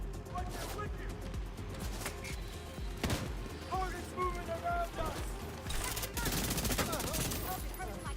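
Rapid automatic fire with exploding ammunition from the St. Elmo's Exotic rifle in The Division 2, sustained bursts with sharp cracks and crashes, loud and close, layered with game ambience and voices.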